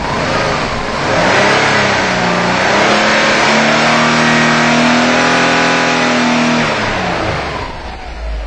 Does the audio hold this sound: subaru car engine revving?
yes